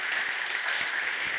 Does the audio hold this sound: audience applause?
yes